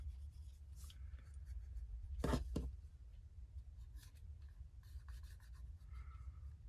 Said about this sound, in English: Q-tip, cotton swab, burnish it down.